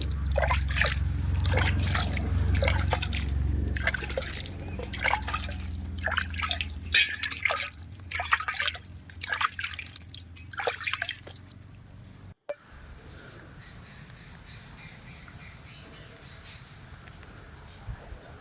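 Water patters and drips in quick bursts onto soil and pots, then stops, leaving a quieter stretch afterward.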